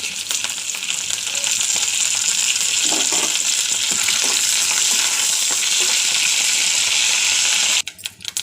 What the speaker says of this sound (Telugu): ఆయిల్ వేసానండి ఆవాలు జీలకర్ర వేసాను అవి కొంచెం వేగాలండి